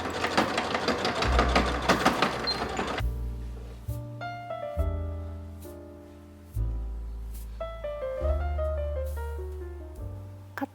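A domestic sewing machine stitching the opening stop on the back bodice of a handmade child's suit, with bursts of mechanical hum and rapid needle chatter alternating with short pauses, close and fairly loud.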